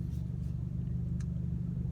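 A 2019 Honda Accord with a loud exhaust idles at a red light, giving a steady low rumbling drone that stays constant throughout.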